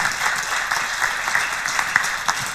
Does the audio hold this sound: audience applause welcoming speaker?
yes